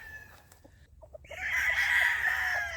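On a mountain farm, a rooster lets out one loud, drawn-out crow close by after a few faint clucks and chicken sounds, with no talking.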